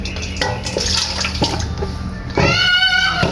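Peeled cassava washed by hand in water, with splashing and sloshing, a few bumps of the container, then a steadier stream of running water near the end.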